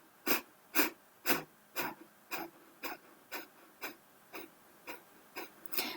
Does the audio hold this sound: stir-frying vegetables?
no